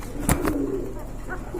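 A pigeon gives a brief low coo close by, a soft rolling call lasting under a second amid quiet background noise.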